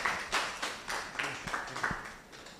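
Applause from a conference audience welcoming a moderator to his seat, a quiet spread of irregular claps heard at a distance, fading slightly toward the end.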